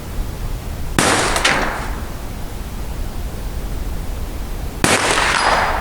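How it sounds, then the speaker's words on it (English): A rifle round rings off a steel target during night-vision scope field testing, with two sharp metallic clangs about four seconds apart, each a bright hit with a ringing tail, over steady outdoor noise. "Oh, clang."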